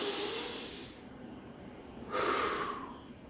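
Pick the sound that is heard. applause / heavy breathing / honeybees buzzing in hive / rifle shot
heavy breathing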